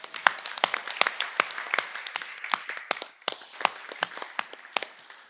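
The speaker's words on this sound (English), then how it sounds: "let's give them a round of applause one more time, please." Scattered, sparse applause from a modest audience at a school board meeting, with distinct individual claps audible in an uneven patter for several seconds.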